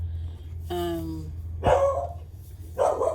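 A dog barks a few times, short sharp yelps spaced apart, fairly close, over a steady low hum in a quiet room.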